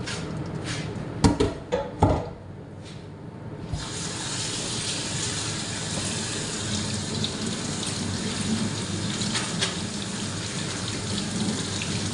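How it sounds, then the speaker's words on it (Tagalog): A few clanks and knocks, then a steady rush of water poured off cooked pasta splashing into a sink, continuing without pause. "I-drain na nga natin yung tubig niya."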